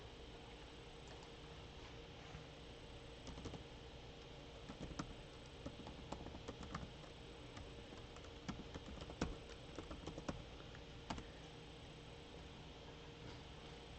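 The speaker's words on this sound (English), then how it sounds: "I got somebody about to type it in there for you, David." Steady keyboard typing, a soft run of quick clicks under broadband room noise, continuing alone through the whole stretch.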